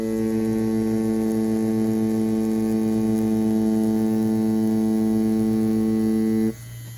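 An Ambition Soldier wireless tattoo machine runs with a steady, close electric buzz and hum. It drones evenly for about six seconds, then cuts off abruptly.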